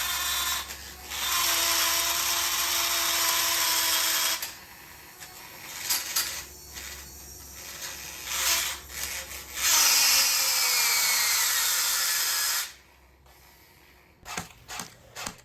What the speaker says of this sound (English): I'm adjusting the motor height, making it grind against the gears to test the strength of the gearbox.